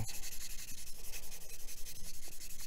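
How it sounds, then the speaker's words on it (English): A sanding stick scrubs back and forth over a plastic Mega Size Unicorn Gundam model kit part, producing a steady, rapid series of close, dry rasping strokes with no talk. "So I can go over with the sanding stick"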